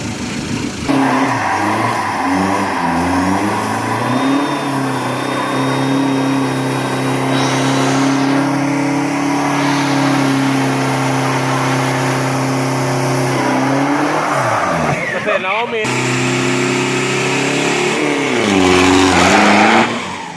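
A big-turbo Ford pickup roars through a 402 m drag run, its engine loud and close, holding a sustained high rev that dips sharply near the end, then climbs again with a brief rising shift.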